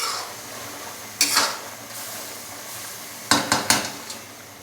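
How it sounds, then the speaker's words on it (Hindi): Sliced ginger and chicken frying in a karahi for butt chicken karahi, a steady sizzle with a few loud metal scrapes and clanks of stirring, bursts near one second and around three and a half seconds. "थोड़ा सा लंबाई में कट किया हुआ अदरक डालेंगे। अभी हम इसको अच्छे से भून लेंगे 5 से 7 मिनट के लिए।"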